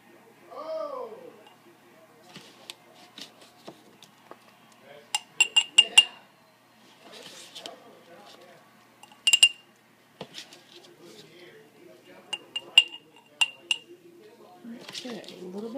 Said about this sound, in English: So Jonathan, just spoon it in here, and we're going to use this little glass jar